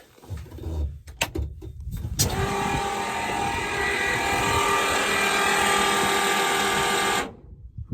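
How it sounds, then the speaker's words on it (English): Clicks and handling noises, then a faulty car fuel pump starts up close with a steady mechanical whine and constant hum, running evenly for several seconds before cutting off. "I have reason to believe the fuel pump in the car it's not happy"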